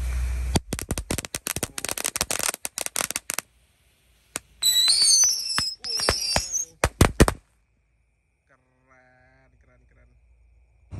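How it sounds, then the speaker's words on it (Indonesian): A pack of rocket firecrackers lit together at night crackles in dense, rapid bursts, then shrill whistling rockets shriek and pop before fading to quiet with a few faint distant crackles. "Selanjutnya kita nyalakan mercon roketor 1 pak sekaligus."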